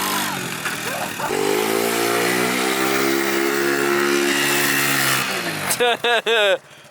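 An old Honda Civic engine revs hard and holds a loud, droning whine for several seconds, then cuts out; voices speak briefly at the end.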